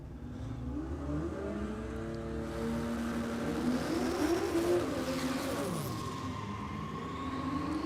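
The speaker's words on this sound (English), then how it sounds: "Adam Somerville smokes the tyres off the line." A HQ Monaro drag car launches off the line at a no-prep Australian dragway, its engine rising steadily in pitch through the run while a constant roar fills the scene, with no one talking over it.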